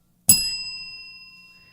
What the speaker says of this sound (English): Where's my bell?